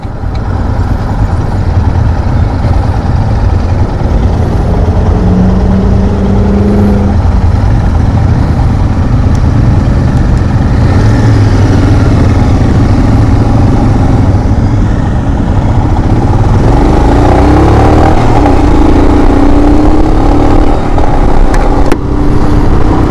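A 2022 Royal Enfield Himalayan motorcycle pulls away and accelerates hard, its engine drone steady and loud throughout with rising pitch sweeps, mixed with road and wind noise and no talking.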